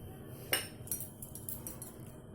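A metal spoon scrapes and clinks against a pot of milk curdling with vinegar in quiet, irregular strokes, faint and close, with a sharper knock near the start.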